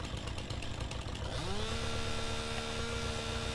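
A chainsaw in the Farming Simulator video game starts up and settles into a steady high buzzing whine that runs loud and unbroken to the end.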